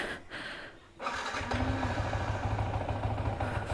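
A motorcycle being warmed up in the early morning before a long road trip settles into a steady, throbbing idle close by after a brief start-up, running on with an even rumble.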